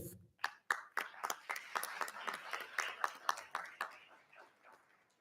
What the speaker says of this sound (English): Another round of applause for our community middle school students of the month